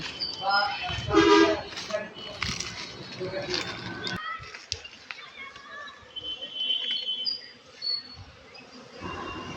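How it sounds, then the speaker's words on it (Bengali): Honey bees swarming at a wooden beehive box in a rural village, a buzzing drone close by, mixed with voices and intermittent louder bursts. "এখানে অনেকগুলো মৌমাছি ভিড় করছে বক্সে"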